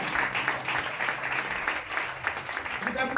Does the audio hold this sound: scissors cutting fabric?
no